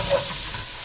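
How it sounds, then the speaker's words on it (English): Chinese cabbage and purple onion sizzle in a pan as a utensil gives them a quick stir. The scrape and frying hiss are close and brief. "we're going to give this a quick stir."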